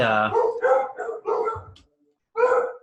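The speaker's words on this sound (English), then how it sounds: "here's the dogs barking" A dog barks and howls in a rapid string of yelps, close and loud, then pauses briefly before one more bark.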